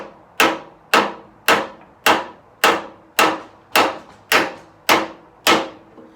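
Ten evenly spaced light hammer taps on a car's metal front fender ring out one after another at a steady rhythm, close and fairly loud, each with a bright metallic decay.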